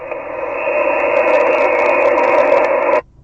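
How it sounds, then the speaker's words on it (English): An HF amateur radio signal from a station in America, received on a mobile rig in the UK, comes through as a steady, tonal, buzzing transmission for about three seconds before cutting off abruptly. "I'm playing a bit of HF and I'm just working a station here in America from my mobile in the UK"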